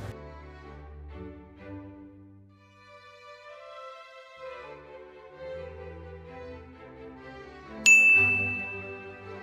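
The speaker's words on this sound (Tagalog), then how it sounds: "Tama. Gitara." Plucked guitar notes ring out alone in a quiet setting, each tone sustaining and fading, with a sharp bright ding near the end.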